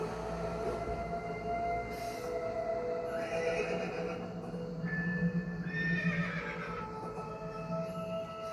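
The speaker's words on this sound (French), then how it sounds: "on va prendre le cheval" A horse whinnies amid steady background noise, with a rumbling, train-like hum and possible hoof clatter underneath; the neigh rises out of the mix midway and is not isolated.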